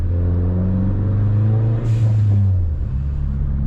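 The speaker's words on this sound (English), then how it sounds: "The bigger engine displacement sounds so much better. It's a lot deeper, a lot throatier." A 400-horsepower Ford Focus RS engine revs with a deep, throaty roar, pitch climbing then easing off over a few seconds, loud and close with no talking.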